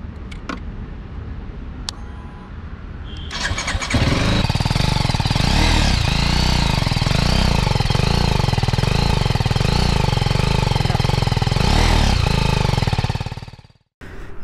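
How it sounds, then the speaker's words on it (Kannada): A BMW G310 GS motorcycle engine starts after a few seconds of quiet, then holds a loud, steady, close exhaust drone for about ten seconds before cutting off abruptly. "ಇನ್ನು ಈ ಗಾಡಿದು ಎಕ್ಸಾಸ್ಟ್ ನೋಟ್ ನೋಡೋಣ."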